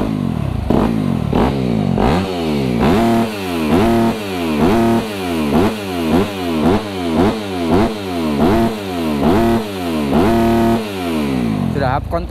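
Modified Yamaha YZ 250FX supermoto motorcycle revving hard on a test ride, a loud close engine repeatedly winding up and dropping back in rapid regular bursts, rasping and clattery.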